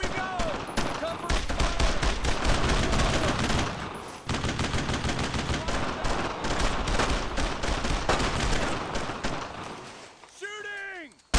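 Gunfire in the World War II shooter Brothers In Arms: Road to Hill 30, loud dense machine-gun bursts and rifle shots almost continuously, with a brief lull and shouted voices near the end.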